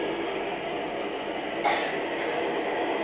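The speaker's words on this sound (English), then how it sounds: "It's a train." A train rushes past in a tunnel, a loud continuous rumbling roar with rattling wheels and a sudden surge in intensity midway as the carriages sweep by close at hand, no voices.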